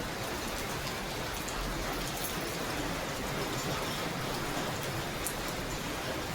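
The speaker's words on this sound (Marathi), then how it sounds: "केवढा पाऊस मोठा, बापरे." Heavy monsoon rain pours down in Maharashtra during a multi-day downpour that has flooded the road. A dense, continuous hiss of falling rain spreads evenly throughout, with no voices over it.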